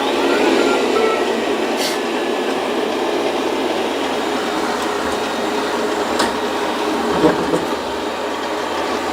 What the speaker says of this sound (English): I'm going to have the vacuum kind of go over it and see what the results are.